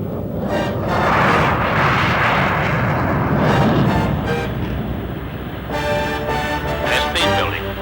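Concorde's jet engines roaring through the takeoff roll on runway 28 left, a loud, broad, rumbling thunder that builds and sustains, with radio-style voices coming through over it.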